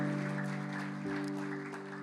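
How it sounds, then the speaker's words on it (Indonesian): A congregation at an evening Sunday church service applauds for God, a soft wash of clapping heard beneath a sustained keyboard chord that shifts pitch midway. "Beri tepuk tangan yang terbaik buat Tuhan."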